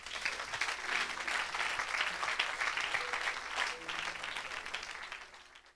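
A church congregation bursting into applause for the Lord during a worship service, a dense sustained wash of many hands clapping that swells, holds steady, and tapers off, with faint voices underneath.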